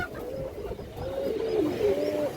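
A big black male Muslodom pigeon coos close by in a soft, rolling series of low throaty calls over faint background noise.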